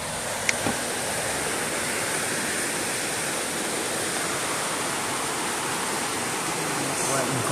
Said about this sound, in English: And there's rapids.